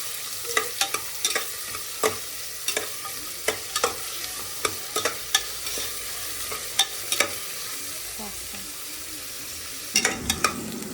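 Two large chopped onions fry in a pan for Muslim-style kushka, with a steady sizzle broken by frequent sharp spatula scrapes and taps and a louder stirring flurry near the end.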